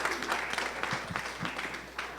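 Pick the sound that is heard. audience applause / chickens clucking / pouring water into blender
audience applause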